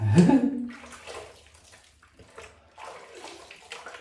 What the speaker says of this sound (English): I'm just going to rinse my face.